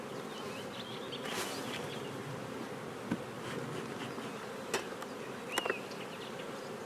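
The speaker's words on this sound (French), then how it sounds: "Oh, on a beaucoup d'abeilles sur la partition," Dense, steady buzzing of many honeybees close by in an opened hive, with a few individual bees flying past louder.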